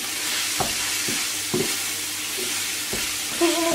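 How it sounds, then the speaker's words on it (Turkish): Minced meat frying steadily in a pan, with a constant sizzle broken by several scraping stirs of a spoon, heard close up with no talking. "Kıymayı da iyice kavuruyoruz artık."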